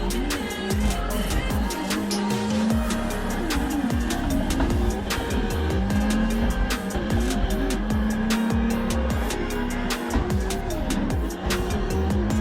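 A Toyota JZX drifts in the Assetto Corsa racing game, with a loud engine revving up and down, repeated tire squeals and skidding, and other cars close by. A voice speaks over it at times.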